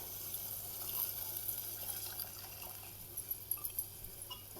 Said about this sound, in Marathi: गरम पाणी ठेवलेलं आहे मी थोडंसं इकडं उकळायला ती थोडंसं मी ओतणार आहे